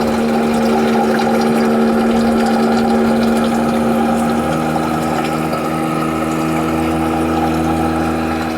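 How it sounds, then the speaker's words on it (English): A water pump in a striper tube for keeping striped bass alive, starved for water and sucking air and water together, giving a loud steady churning, bubbling hum that holds without a break throughout. "So that pump is almost starving for water and grabbing air and water at the same time."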